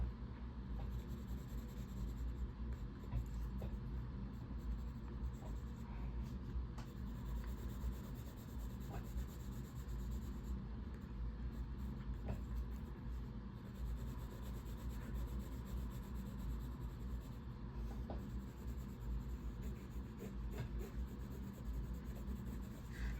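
A Mitsubishi Prussian Blue/Vermillion Red colored pencil with a dull tip is rubbed steadily across paper, giving a continuous soft scratchy rasp that stays close and even throughout with no talking.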